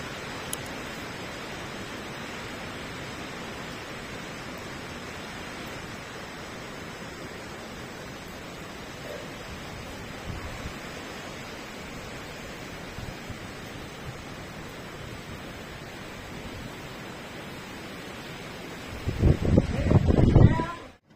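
A rising flooded river rushes during a flood, a steady broad roar that continues throughout and builds to louder bursts near the end.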